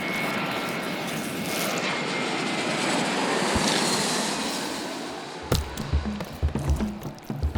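A fixed-wing airplane in a video game climbs after takeoff, its engine a steady broadband roar for about five seconds before it cuts to a quieter stretch broken by irregular knocks and thumps.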